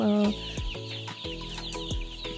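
Poultry birds at feeding time give soft, scattered clucks and peeps among faint clattering and a steady low hum, with a brief louder tonal sound at the start.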